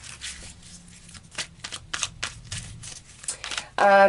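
Tarot cards shuffled by hand: soft riffling and slapping of card stock in short bursts, close up, ending in a louder flutter.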